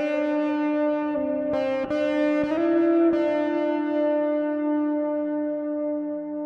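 Sustained electric guitar notes through a Walrus Audio Melee pedal ring out with a washy reverb tail feeding into gritty distortion, a few picked changes over a long decaying tone.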